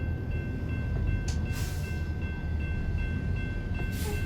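A freight train rolls past in American Truck Simulator, a continuous loud rumble of rail cars with rhythmic clatter and brief hissing bursts, heard alone without talk.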